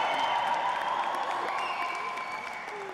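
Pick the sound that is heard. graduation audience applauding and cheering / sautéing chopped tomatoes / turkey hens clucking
graduation audience applauding and cheering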